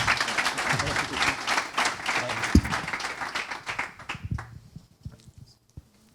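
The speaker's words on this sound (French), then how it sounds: "On peut aussi l'applaudir" An awards-ceremony audience claps for an assistant coach joining them on stage, steady clapping with a voice over it that thins out and fades to near silence by the end.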